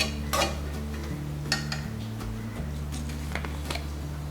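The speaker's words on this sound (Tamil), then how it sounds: "இது நல்லா இது போல் கிளறி விட்டுக்கோங்க." Green gram curry with brinjal being stirred in a pan, a spoon clinking and scraping against metal in irregular taps over a steady low hum, close and moderately loud with no talking.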